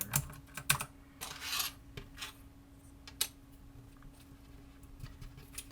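Typing on a freshly cleaned computer keyboard, close and quiet, with irregular clusters of crisp key clicks and taps separated by brief pauses.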